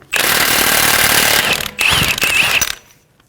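An impact wrench with a 36mm socket removes the axle nut on a 2003-2008 Honda Pilot, hammering loudly and close in a long burst, then a brief gap and a second shorter burst before it stops.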